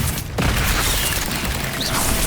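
A Confringo blasting spell goes off in the video game Hogwarts Legacy as a loud, dense burst of explosive noise that fills the short moment, with a brief dip before the blast sustains at full volume.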